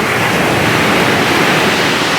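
Sea waves at a warm beach roll in a continuous, loud, broadband wash with no talk, steady throughout.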